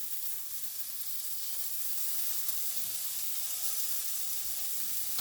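Spicy potato and sweet potato wedges sizzle steadily in hot oil on the heat, a continuous close, even crackling hiss with no talk.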